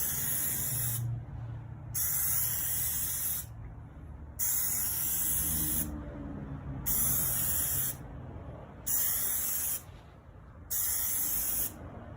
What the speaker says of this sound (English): Get a little test spray. Get all that going, primed up. And the first one will just be straight across.